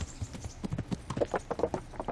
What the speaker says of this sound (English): I don't mind riding there so much now because this horse is fucking fast